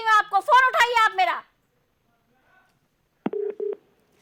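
A phone call rings unanswered, with two short ringback tones heard faintly after someone speaks, separated by silence.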